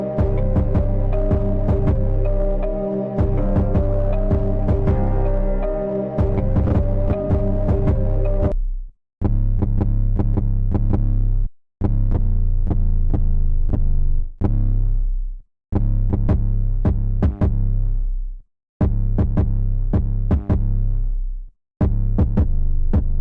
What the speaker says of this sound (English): I like this 808 slat one.